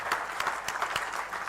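A crowd at a speech on AI and education applauds, a brief, steady wash of many hands clapping with a few sharper individual claps standing out.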